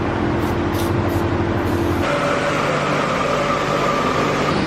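Steady loud hiss of brake cleaner sprayed onto a part of a 2006 Subaru WRX, continuous and close with a shift in tone partway through, no talk.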